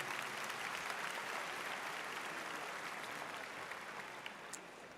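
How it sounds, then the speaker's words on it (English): A large crowd at a university spring commencement ceremony claps in a dense, sustained wash of applause that tapers slightly toward the end. "Let's give them all a round of applause, please."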